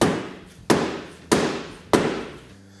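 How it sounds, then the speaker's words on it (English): Rubber mallet smacking a new axle into place on a Honda Pioneer 1000 during a rear A-arm install: four sharp, loud thuds spaced about half a second apart, each ringing briefly before fading. "take a rubber mallet and just smack it right in"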